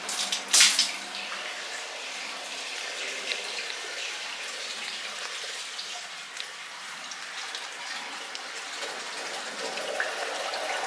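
A hose runs water into an 8 ft aquarium: after a brief knock near the start, a steady, broad, hissing rush of flowing water continues alone at moderate level throughout.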